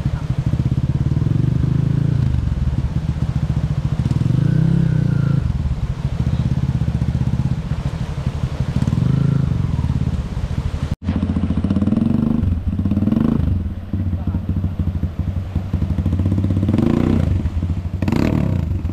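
An enduro motorcycle engine runs at a river crossing during a hard enduro rally in rugged terrain. It gives a loud, close, uneven putter with repeated revving swells, a brief cutout midway, and clattering and scraping around it.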